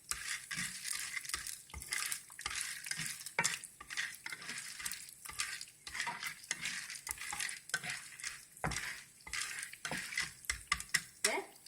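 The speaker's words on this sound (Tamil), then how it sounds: "கரண்டி எடுத்து கலக்கி விட்டுக்கிறேன்" Corn kernels stirred in hot oil with a ladle, repeated scraping strokes against the pan in an uneven rhythm over a continuous close sizzle.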